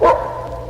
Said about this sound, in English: The second bark is a challenge.